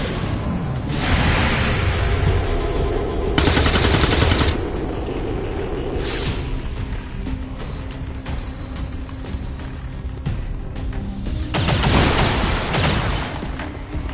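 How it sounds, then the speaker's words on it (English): Gunfire in the tactical strategy game XCOM 2 (War of the Chosen): repeated automatic bursts and heavy volleys, loud and close, with booming shots and continuous rattling action sounds in between. "I'm under fire!"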